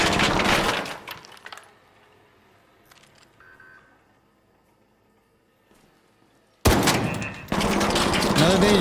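Machine-gun fire from a turret in the Arc Raiders video game, a loud sustained burst at the start, then near quiet, then another heavy barrage that keeps going to the end.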